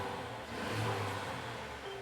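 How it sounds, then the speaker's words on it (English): Engine of a 2020 Mercedes Sprinter van idling with a steady low rumble and mid-range whir, close and continuous, while suffering an oil pressure fault that nearly seized it. "So as you can hear, the engine is running."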